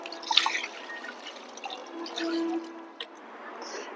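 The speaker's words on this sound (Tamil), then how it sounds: "செடிக்கு நம்ம தண்ணி ஊற்றிட்டோம்." Water poured onto a newly planted night queen plant drips and trickles in soft, scattered splashes, faint and close, with a brief steadier pour in the middle.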